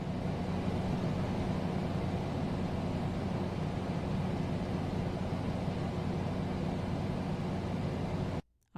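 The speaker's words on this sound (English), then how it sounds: "Is it an air conditioner?" An air conditioner runs with a constant broadband whoosh and low hum, loud and unchanging for about eight seconds before cutting off abruptly.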